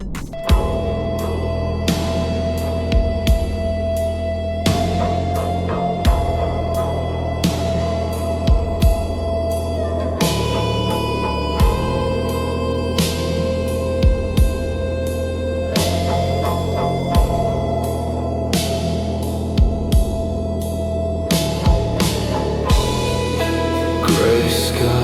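Slow AI-generated doom metal track in a gothic, post-punk vein, with a low bass vocal droning on one pitch over heavy sustained guitars and steady, evenly spaced drum hits, loud and reverberant throughout.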